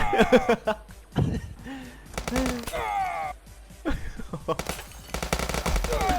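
Gunfire in the tactical police game Police Stories: rapid bursts and single shots crack at close range in uneven clusters, mixed with a player's laughter and chatter.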